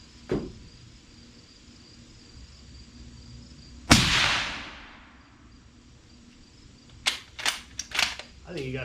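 .308 rifle shots fired at a 200,000-pound dozer blade: one loud, sharp crack with a ringing tail, then a quick cluster of smaller impact snaps later, from outdoors with a faint constant background.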